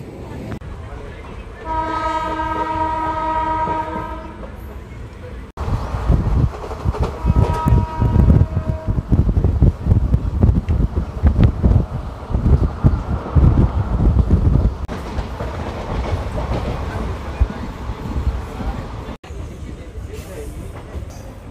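The Palnadu Superfast Express sounds its horn with a long steady blast, then pulls out of Nalgonda station with loud rumbling, wheel noise and wind buffeting. A voice speaks briefly over the din.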